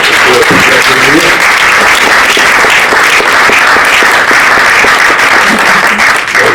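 Audience applause at an evening debate event about sickle cell disease, a loud, dense, sustained clapping that fills the whole stretch without letting up.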